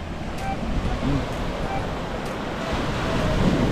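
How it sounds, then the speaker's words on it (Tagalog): Sea waves wash onto the shore during a strong monsoon swell, a steady loud surf roar mixed with wind on the microphone. "Subok naman, tingnan mo ang alon."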